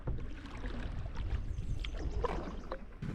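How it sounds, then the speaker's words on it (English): Canoe paddle strokes splash and gurgle across a backcountry lake in a steady, close wash of water sound, with faint wind and no talking. "Now we have a short paddle across this lake and another portage."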